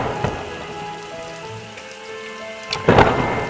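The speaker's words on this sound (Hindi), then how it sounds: "बिजली कड़कने लगी और मूसलाधार बारिश बरसने लगी" A sharp crack of thunder near the end breaks through a steady wash of heavy rain, with a fainter rumble early on.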